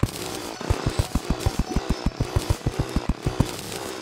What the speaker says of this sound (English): And chainsaw.